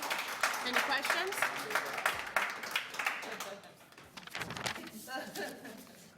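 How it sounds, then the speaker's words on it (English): Audience applause at a city Planning and Housing Committee meeting, a steady patter of many hands that fades out partway through as voices take over. "I thought we were done with the clapping."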